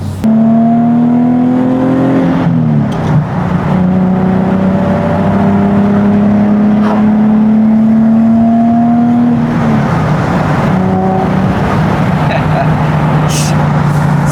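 A Nissan 370Z Nismo engine revs while driving, loud and close, with a steady drone that climbs in pitch, drops at a gear change around two seconds, climbs again, then drops once more before settling.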